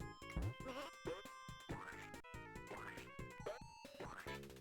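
Several short cartoonish sheep bleats from the Sega Genesis game Bubsy 2 cut through busy game music and sound effects, each cry brief and wavering.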